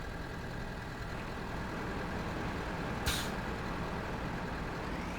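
A truck in the Cityconomy video game rumbles with a steady engine drone, and one brief hissing burst like an air brake comes in midway, with no talking.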